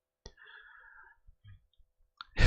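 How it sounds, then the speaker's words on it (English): A computer mouse gives a few sharp, close clicks spread apart, with faint quiet handling noise in between and a louder burst of sound at the very end. "I have trouble not clicking on things."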